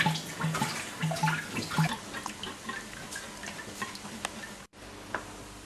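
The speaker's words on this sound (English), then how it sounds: "When the antifreeze has practically drained completely, without putting the container aside, unscrew the plug completely." Antifreeze drains from the cooling system of an Opel Astra G into a container, giving a trickle with irregular close drips and small ticking splashes that thin out toward the end.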